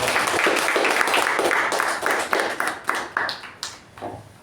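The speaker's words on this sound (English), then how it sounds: "can we have a round of applause for Toastmaster?" Audience applause, a steady patter of many hands clapping that thins out into a few scattered, separate claps toward the end.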